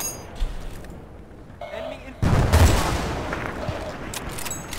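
Barrett M95 sniper rifle in Bad Company 2 lets off a heavy, booming shot that rings out loudly over a quieter stretch of game ambience, with a voice talking in the background.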